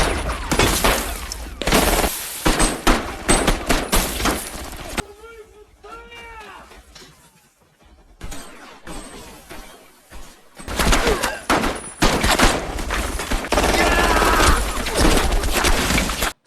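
Bursts of gunfire from soldiers in a Korean War film battle, with loud rapid volleys at the start and end around a quieter middle stretch, mixed with music and voices.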